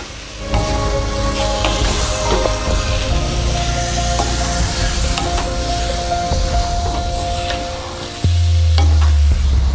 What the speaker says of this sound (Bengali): এবার আমরা মাংসটা যে ম্যারিনেট করে রেখেছিলাম সেই মাংসটা দিয়ে দেবো।